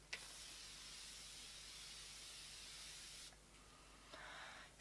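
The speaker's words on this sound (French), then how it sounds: "je vous recommande cette brume-là parce que c'est exactement le même continuous spray" A continuous spray of facial mist hisses steadily and close for about three seconds, then a brief pause before a second shorter burst of spray.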